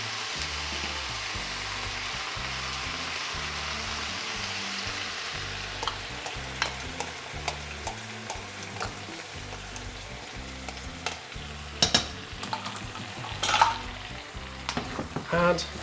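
Gravy poured into a pan of frying tofu with lemongrass, a steady loud sizzle that breaks into sharper crackles and stirring clatter toward the end, with no voices.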